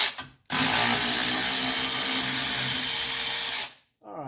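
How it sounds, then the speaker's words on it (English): Power tool spinning out 19mm brake bolts on a 1985 wagon, one loud continuous whir lasting about three seconds, close by, with brief quiet before and after. "Let's go ahead and finish getting those 19mm brake bolts out."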